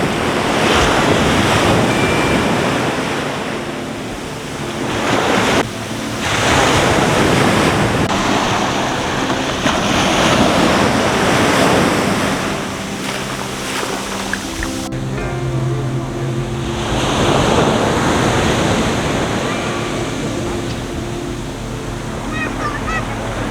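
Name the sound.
ocean waves at Mismaloya Beach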